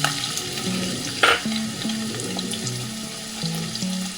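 Onion frying in hot oil in a pan while leftover chicken fry is turned into a gravy, a steady close sizzle with a brief louder burst partway through and faint stirring clinks.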